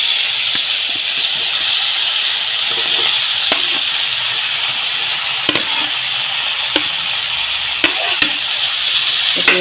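Ridge gourd (turoi) fries with potatoes in a pan for an Assamese fish curry, a loud, continuous sizzle broken by occasional clinks of stirring.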